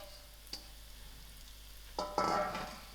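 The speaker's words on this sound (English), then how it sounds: "I'm adding in my tiny beans" Tiny beans tipped into hot masala in a pan, a soft tap followed by a sudden rising sizzle and frying hiss in the last second, quiet and close with stirring.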